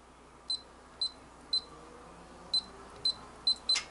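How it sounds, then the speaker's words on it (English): A safe's electronic keypad gives seven short, sharp beeps at uneven intervals, followed at the end by a brief mechanical click of the door in a quiet room. "And you hear a beep and you hear the door click."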